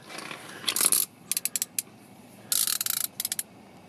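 A wrench loosens the 15 mm oil drain plug on a car, giving close, crisp ratcheting clicks in quick bursts and short runs, with quiet pauses between them.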